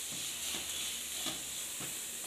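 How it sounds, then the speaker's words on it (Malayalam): Grated coconut and spices fry in a pan with a soft, continuous hiss, while a utensil stirs in slow strokes roughly every three quarters of a second, fairly quiet and with no talking. "തേങ്ങ നല്ലതുപോലെ ഫ്രൈ ആയി വന്നിട്ടുണ്ട്."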